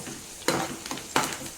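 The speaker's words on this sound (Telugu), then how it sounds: "తర్వాత కొంచెం అల్లం వెల్లుల్లి పేస్ట్ వేసి దోరగా వేయించుకోవాలి." Ginger garlic paste fries in a pan with tempering seeds and curry leaves for a carrot fry, a close, hissing sizzle punctuated by two quick stirring strokes.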